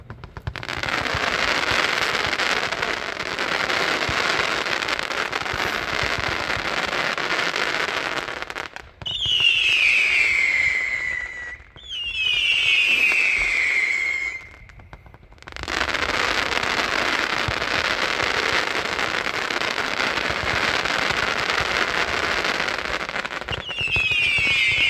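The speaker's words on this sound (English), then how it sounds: "Next up, number 141 from Showtime. This is a 154 shot party meter." A 154-shot party meter firework barrage fires in long, dense stretches of rapid crackling bursts, broken by gaps where whistling rising tones sound, loud and close throughout.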